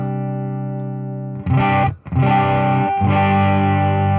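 A distorted electric guitar through a Helix amp modeler preset with impulse responses rings out sustained chords, cutting off briefly and restarting, loud and saturated with a bright, processed edge.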